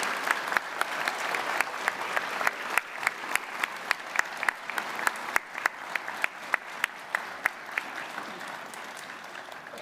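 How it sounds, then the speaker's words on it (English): A graduation ceremony audience in a hall applauds steadily, dense clapping from many hands with a few louder individual claps standing out, sustained and slowly tapering toward the end. "Now please give a round of applause for all those people here and elsewhere who have helped, inspired and encouraged you"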